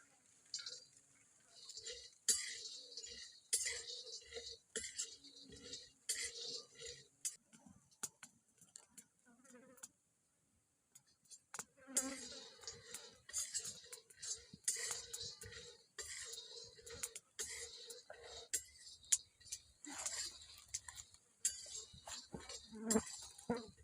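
Homegrown small peanuts stirred in a pan while dry-roasting, with repeated scraping clinks of a spoon on metal in irregular bursts, close and quiet, with a brief pause midway.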